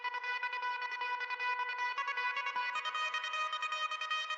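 A synth alarm layer sampled in a hardstyle remix: a bright, steady, pulsing tonal alarm that repeats in quick even beats, loud and alone throughout.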